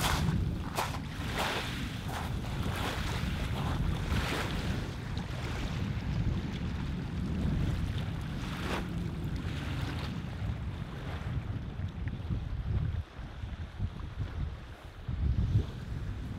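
Waves lap steadily on the shore of England's deepest lake, a continuous close wash of water mixed with gusty wind buffeting the microphone, with no voices.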